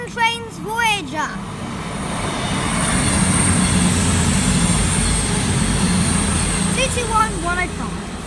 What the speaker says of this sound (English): And approaching now is a Virgin Trains Voyager.